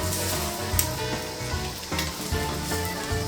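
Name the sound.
Monte Cristo sandwiches frying on a hot burner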